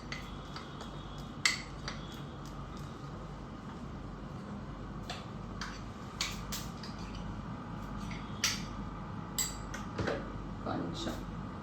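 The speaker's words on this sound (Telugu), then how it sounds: "ఈ బ్లెండ్ ఇందులో కలిపేసుకోవాలి." A spoon stirs a blend into idli batter in a bowl, making scattered light clinks and soft wet squishes at irregular intervals while someone talks throughout.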